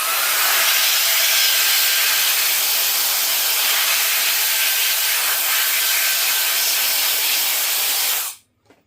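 A small handheld electric air blower blasts air to clean gunk out of a knife's back springs. It makes a loud, steady, close-up hiss for about eight seconds, then cuts off abruptly.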